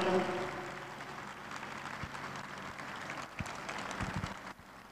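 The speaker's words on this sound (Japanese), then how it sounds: "どうぞ大きな拍手でお送りください。" An audience applauds a school choir of elementary and junior high pupils at the Olympic torch relay Grand Start in Fukushima, with moderate, fairly faint clapping that holds steady and tapers off near the end.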